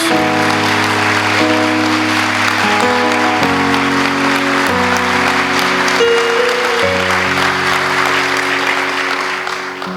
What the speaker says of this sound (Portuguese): Vamos aplaudir poderosamente a palavra de Deus.